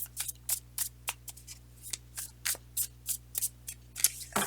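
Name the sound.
shuffling tarot cards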